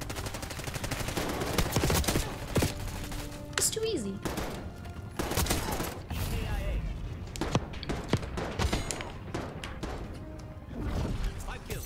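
Online Call of Duty: Black Ops 6 match gunfire, with sharp shots and short bursts cracking at irregular intervals against game ambience and occasional voice chatter.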